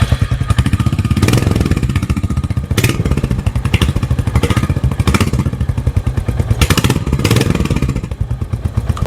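A 2024 Royal Enfield Hunter 350 motorcycle idles with a loud, close, pulsing single-cylinder exhaust thump, punctuated by several short throttle blips that rise and fall again, with no voices over it.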